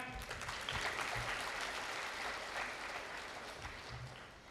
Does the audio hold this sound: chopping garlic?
no